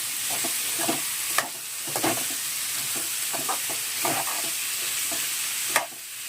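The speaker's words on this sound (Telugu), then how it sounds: "బీరకాయ ముక్కలు వేసుకుందాం. కలుపుకుందాం." Ridge gourd pieces stirred in a hot pan, a steady frying sizzle broken by repeated scraping and clinking of the spoon at irregular intervals, close and fairly loud, with no voices.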